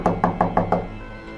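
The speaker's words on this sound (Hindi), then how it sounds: "अचानक उनके घर के दरवाजे पर एक जोर से दस्तक हुई।" Five loud, hollow knocks on a wooden door in quick, even succession, close and dry, followed by a short silence, used as a horror story sound effect.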